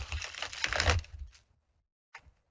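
Cards being shuffled for a relationship reading on a live psychic call-in show: a dense run of quick papery riffling for over a second, then a brief second flutter after a pause.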